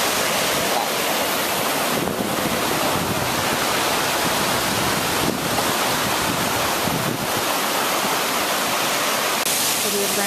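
A waterfall in the Columbia River Gorge roars as a dense, steady wash of falling water, heavy with wind buffeting on a breezy, misty day.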